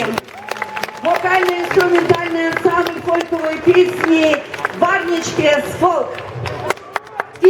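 Audience at a festival concert claps in scattered, uneven bursts beneath someone speaking into a microphone, with sharp individual claps standing out near the end.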